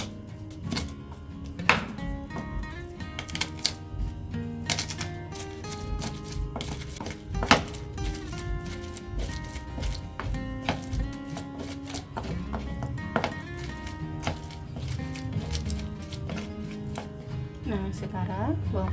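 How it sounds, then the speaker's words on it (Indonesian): Garlic crushed with salt, giving repeated thuds and taps in an irregular rhythm, set against steady background music. "sekarang saya akan menghaluskan bawang putihnya terlebih dahulu"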